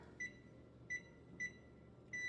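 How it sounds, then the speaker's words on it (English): Kitchen oven timer beeping, four short, high electronic beeps at regular intervals with the last one held longer, faint over a quiet room hum. "Let me turn my timer on here."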